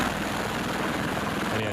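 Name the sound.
helicopter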